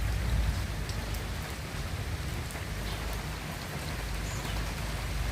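Steady rain falls in Lahore on a hot day, a continuous dense hiss of drops on surfaces with low rumbling underneath, with no voices.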